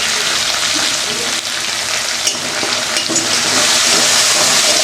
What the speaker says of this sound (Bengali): একটু কষিয়ে নিলাম মশলাটাকে।